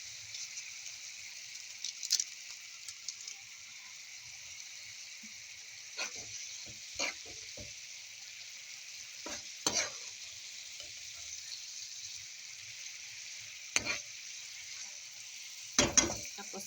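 Radish leaves sauté quietly in a pan with soy sauce and seasoning, a soft, steady sizzle broken by a handful of sharp scraping clicks from stirring utensils, spaced irregularly and fairly close.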